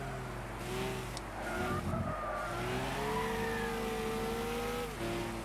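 Race car engine in Gran Turismo 6 at Brands Hatch, revving steadily through a twisty section with pitch rising and falling as it shifts and corners, with brief tire squeal, loud and close throughout.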